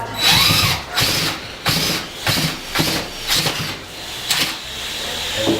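A power drill bores into a stone wall in repeated short bursts, roughly eight loud grinding pulses with brief pauses between them, close and clear with no talk.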